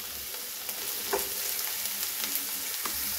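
Fresh peas and bell pepper fry together in a pan of oil for spicy masala macaroni, giving a steady close sizzle with faint crackles and light stirring taps and no voices.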